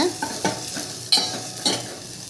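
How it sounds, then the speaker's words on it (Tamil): Garlic sautéing in a pan for a tropical amaranth root soup, with sizzling and stirring scrapes, a few louder clinks of the spoon against the pan, heard close and on its own. "பூண்டு போட்டு கொஞ்சம் வதக்கி வதக்கிக்கோங்க"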